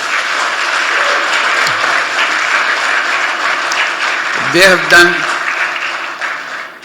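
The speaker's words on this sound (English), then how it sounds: "Let's give a big applause for our young people." Loud, sustained audience applause at a social business youth conference, continuous clapping from a large crowd with a brief voice cutting through midway.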